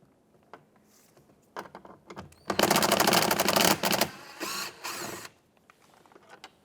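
Ratcheting clicks and rattling bursts from removing an 8mm bolt on the door of a 2009-2014 Ford F-150 during a window regulator job, growing into a dense, loud run of mechanical clatter midway before tapering to quiet handling noises.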